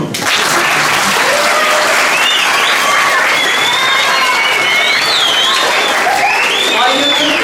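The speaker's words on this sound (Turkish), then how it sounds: "Alkış yok mu?" Students applaud and cheer loudly at a school gathering, a dense, steady wash of clapping lasting the whole stretch, with whoops and whistle-like shouts rising over it.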